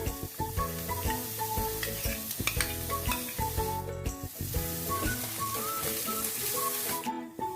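Paneer and vegetables sizzle steadily as they are stirred in a pan for a veg roll filling, the frying hiss running throughout under louder background music.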